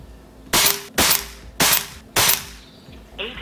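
An Air Venturi Nova Vista air rifle fires H&N Baracuda 15-grain pellets in four sharp, loud, close shots at roughly even intervals, followed by a faint short tone near the end.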